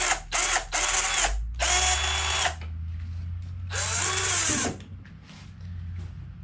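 A HYCHIKA cordless drill with a keyless chuck being tightened, giving short loud whirring bursts with ratcheting clicks, several spins in a row, close up.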